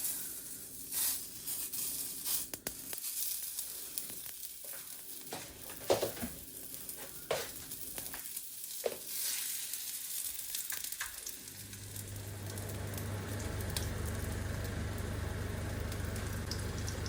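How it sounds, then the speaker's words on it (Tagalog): Homemade hotdogs dropped into a hot pan, a steady crackling sizzle that grows fuller and more constant toward the end, close by, with some clatter of handling and no talk. "Magprito lang tayo ng konti para matikman natin yung lasa niya."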